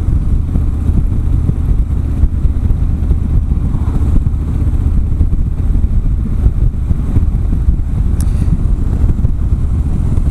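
A Harley-Davidson motorcycle climbs a mountain road near Lafayette, Georgia, its engine droning steadily and loudly under heavy wind rush, with no voices.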